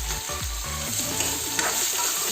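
Onions frying in hot oil with turmeric and salt for a silkworm dish, a loud continuous sizzle with a few stirring scrapes and no talking.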